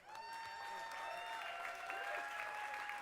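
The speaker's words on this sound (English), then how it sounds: "I also want you to give a huge round of applause to Lindsay for being an amazing host this ev" An awards show audience in a theatre claps steadily and continuously, with a sustained tone and faint voices mixed in underneath.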